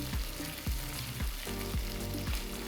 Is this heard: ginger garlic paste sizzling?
yes